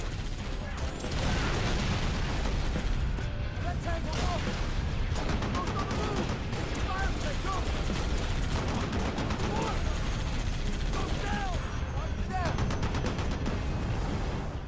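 Anti-aircraft gun fire in the video game Halo: Reach, a dense, continuous barrage of booming shots and mechanical clatter that holds steady at high loudness throughout.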